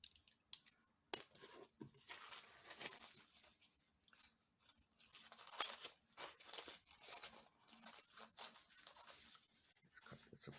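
Scissors snip through paper in short, faint bursts of cutting, with paper rustling and crinkling between cuts at a crafting table.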